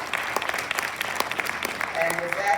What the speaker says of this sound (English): just give the city of Roswell another hand clap